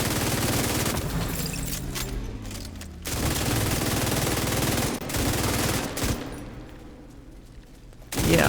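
Rapid automatic gunfire in a video game as shots hit a wall, dense continuous bursts with short gaps, loud and close throughout.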